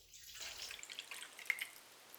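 Lemonade concentrate is poured into a no-bake pie mixture, making a faint, soft liquid trickle with light splashy drips over a couple of seconds.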